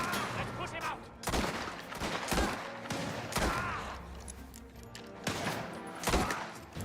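Rapid gunfire bursts in Mafia: The Old Country, including a shotgun at range, with loud repeated shots in close succession and a player talking over the shooting.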